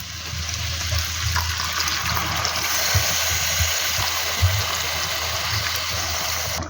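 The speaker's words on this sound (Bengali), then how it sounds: "জল অ্যাড করা হয়ে গিয়েছে" Water poured steadily into a pan of jackfruit curry, a continuous close splashing and trickling rush that lasts throughout with no talking.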